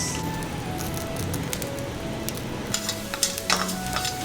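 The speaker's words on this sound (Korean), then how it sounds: "튀기는 데만 엄청 오래 걸리네." Fish frying in oil for a Filipino fish dish gives a steady, moderately quiet sizzle, dotted with sharp crackles and pops that grow busier toward the end, with no talking.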